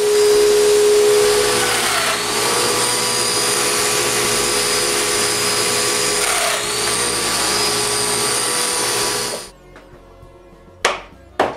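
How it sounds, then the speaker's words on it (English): Domino joiner cutting mortise holes into wood panels for modular bookshelf cubes, a loud steady whine of the plunge cut running continuously for about nine seconds before stopping, followed by two short sharp bursts as it is briefly restarted. "I'm using the two stop panels underneath the domino joiner to help with the alignment."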